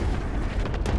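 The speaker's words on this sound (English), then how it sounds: "That was my missile." A missile explosion in the Call of Duty: Modern Warfare video game rumbles as a loud, deep, sustained boom lasting about a second, with a brief crackle near the end.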